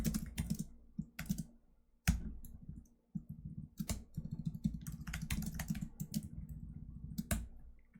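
Someone types on a computer keyboard in quick bursts of close clicking keystrokes, with short pauses between the runs.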